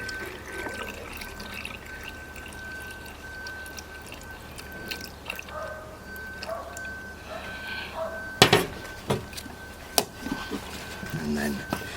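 Water poured into a film developing tank to rinse the film, a faint trickle and splash under soft room noise, with clunks and knocks from the tank near the end and a steady background whine.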